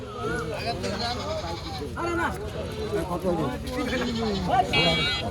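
Several goats bleat repeatedly amid a busy crowd of voices at a livestock market in Rustampur, Rajshahi, some calls close and loud, others farther off.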